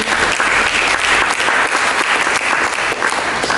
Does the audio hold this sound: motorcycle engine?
no